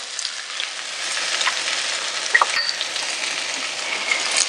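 Onions and chili pepper sizzle steadily in a hot pan, a continuous close crackle with a few brief clicks and stirring sounds partway through, no voices.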